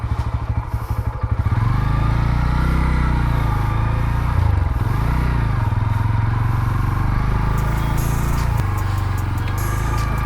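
A Bajaj Pulsar N125 motorcycle is started up close: a short cranking rattle, then the engine catches and runs at a loud, steady idle with a slight rev bump midway.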